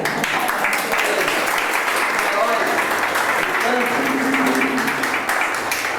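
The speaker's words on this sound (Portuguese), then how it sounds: "Merece dar uma salva de palmas, merece?" A congregation applauds during a church Bible study, sustained dense clapping throughout with a few voices calling out beneath it.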